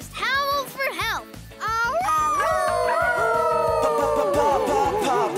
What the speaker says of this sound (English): if you're ever in trouble, just howl for help